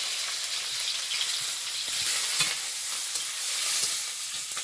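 Nigella seeds, panch phoron and chopped onion with garlic frying in hot oil, a steady close hiss of sizzling with faint scraping as the spices are stirred, no voices.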